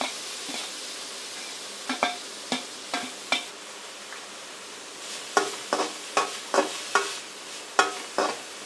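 Grated gooseberry sautéed in ghee over a slow flame, a low gentle sizzle beneath repeated crisp ladle taps and scrapes against the pan, coming in irregular bursts of clicks, close by.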